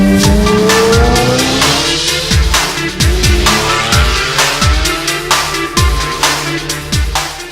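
Sports cars pass spectators one after another at a car meet, loud engine roars with repeated downward-sweeping pass-by tones and tire squeal, each car rushing close by in quick succession.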